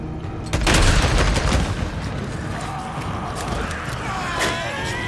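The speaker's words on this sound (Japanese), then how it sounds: "爆発物有効活用しながら行こ" Explosions and gunfire from a large horde battle in the video game Days Gone: a loud blast near the start rumbles and fades, followed by scattered shots and mechanical creaks under a steady noisy background.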